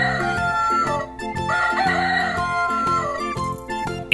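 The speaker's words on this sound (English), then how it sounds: "The chicken says," A toddler learning toy plays a chicken sound, a busy electronic rooster crowing and clucking over a tinkly musical backing, loud and close.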